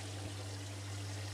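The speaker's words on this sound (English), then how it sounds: "I've rinsed it off with clean fresh water" Running water from a lowered-pressure shower steadily rinses a cockapoo in a tub, a continuous close stream over a low hum, with no talk.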